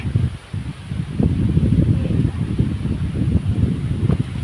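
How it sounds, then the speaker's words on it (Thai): Strong wind roaring through mountain trees, a continuous low buffeting rush with rustling swells, loud and close. "วันนี้หู เสียงลมสุดยอดมาก"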